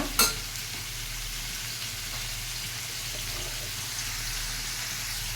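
Tomato curry frying in a pan gives a steady, even sizzle that runs close and continuous throughout, with a brief sharp clatter near the start and no voices.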